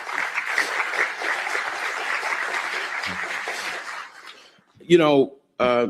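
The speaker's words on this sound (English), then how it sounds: "Please give them a round of applause." Audience applause at a morning pancakes-and-politics forum, a sustained crowd clapping for the event sponsors for about four seconds, fading out before a speaker's voice resumes.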